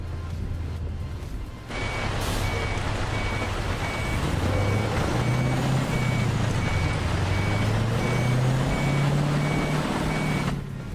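An old truck backs up with a steady series of loud reversing beeps over a deep idling engine rumble that rises and varies as it moves, heard close throughout.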